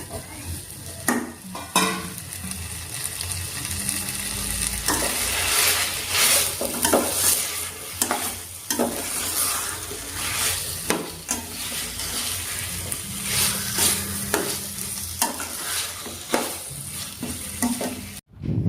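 Mutton pieces frying in a roasted spice paste while a spatula stirs them, steady close sizzling broken by repeated scraping strokes and occasional metallic pan knocks throughout, with no voices.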